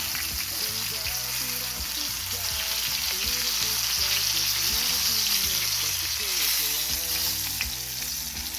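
Salmon fillets, including a small 15-inch fish, fry in a pan with a steady broadband sizzle, joined by background music.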